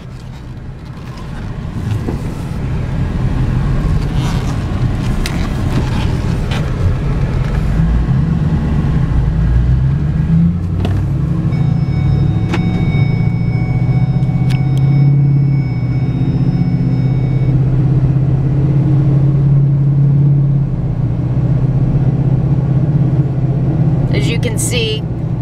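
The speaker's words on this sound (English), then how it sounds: "I'm gonna take the truck up the road, drive it a little bit so you can see that it runs, drives, and shifts exactly as it should." Ford F-250 pickup truck driving up a road, its engine giving a steady, close, continuous rumble with slight shifts in pitch as it moves and changes gear.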